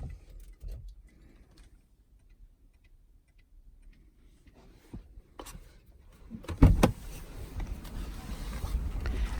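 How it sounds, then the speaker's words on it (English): A 2019 Lexus RX300 sits quiet with a few faint clicks, then its engine catches with a sudden thump and settles into a steady, close idling rumble. "Several times we start and turn off the engine."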